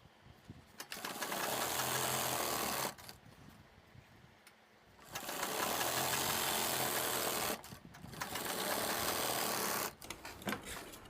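A sewing machine stitches buckram along a Pakistani salwar in three loud, rapid bursts of motor whir and needle clatter, each lasting a few seconds, separated by short pauses with quiet handling of the fabric.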